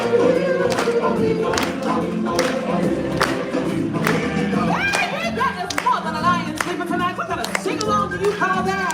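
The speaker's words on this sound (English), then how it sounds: "Come on, everybody, clap back, sing along." At a live show at Walt Disney World's Animal Kingdom, an audience claps along in a steady rhythmic beat under loud music and singing.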